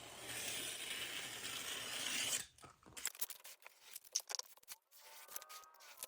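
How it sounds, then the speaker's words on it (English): A utility knife cuts away excess paper around a picture frame: a sustained scraping slice for about two seconds, followed by scattered crisp crackles and rustling of paper, close and quiet. "Then I used a utility knife to cut away the excess paper."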